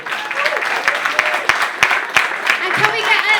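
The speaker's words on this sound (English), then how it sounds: "can we get a round of applause for our volunteers" Applause from a bar audience at a science talk night, honouring two volunteers: dense, steady clapping with sharper individual claps standing out, close and sustained throughout with a faint murmur of voices.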